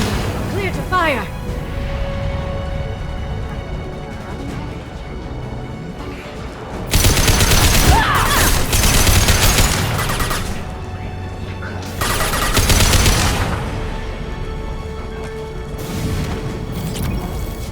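Gunfire in the Mass Effect 2 video game, bursts of rapid shots and booming blasts in two loud stretches amid combat noise, with voices talking between volleys.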